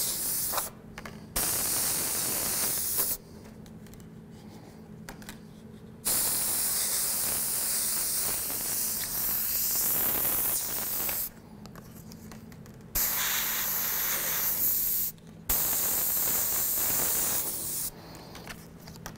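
An airbrush sprays paint in repeated short and long bursts to build up color for a realistic fire design, each burst giving a steady close hiss separated by brief pauses.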